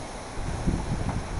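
Gusty wind from Cyclone Gamède shaking trees and bamboo, heard as a steady, loud roar of rustling noise with a stronger gust partway through.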